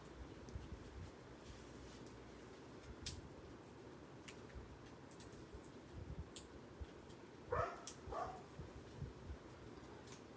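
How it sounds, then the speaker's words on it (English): Dogs barking out back at a distance, faint and scattered, with a couple of sharper bark bursts standing out over a low steady background. "My dogs are out back and they must hear something or someone coming because they're all barking away"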